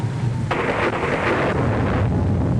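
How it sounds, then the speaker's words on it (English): Loud thunder from a storm rumbles and cracks continuously, with a sharp burst midway amid steady storm noise and no talk. "The center of the storm has hit us."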